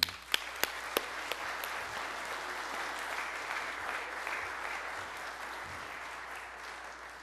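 An audience breaks into sustained applause to welcome a speaker to the stage, a few sharp claps standing out at the start before the steady clapping holds evenly and fades slightly toward the end.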